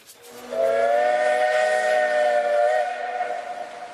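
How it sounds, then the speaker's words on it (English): A Class OV steam locomotive sounds its whistle, a loud, sustained, harmonically rich chord that swells after half a second, holds for about two and a half seconds and then trails off, with no other sounds. "at the head of the monstrous behemoth was a young battle-scarred Class OV steam engine"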